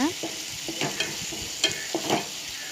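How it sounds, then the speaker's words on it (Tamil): Oil sizzles and crackles steadily while coriander leaves are stirred in a pan, with occasional sharper pops close by. "அதை எண்ணெயில் நல்லா வதக்கிக்கோங்க."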